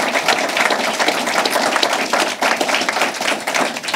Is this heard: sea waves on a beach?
no